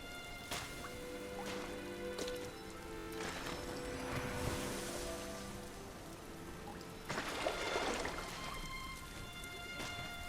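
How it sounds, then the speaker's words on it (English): Soft rain falls in the video game Sky: Children of the Light, a faint, steady patter with occasional brighter splashy bursts, set under gentle sustained musical tones. "I'm actually going to turn off the rain"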